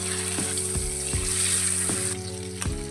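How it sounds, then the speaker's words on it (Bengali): Pabda fish frying in hot oil for a spicy mustard-paste curry, a steady loud sizzle with periodic soft scraping strokes of a spatula, close up and without talk. "একইভাবে সব মাছগুলো ভেজে নেব।"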